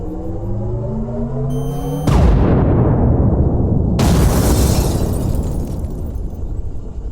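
A sci-fi tactical laser fires with a rising whine, then a huge explosion bursts in and rolls on as a loud, sustained roar and rumble, with a second blast surge midway.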